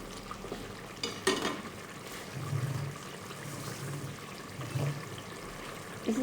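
Meat for Peshawari namkeen gosht fries in a pan with a moderate sizzle, broken by a few scrapes and stirs and a brief clatter, heard close with no talking.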